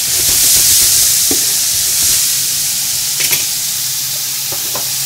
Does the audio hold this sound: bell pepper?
yes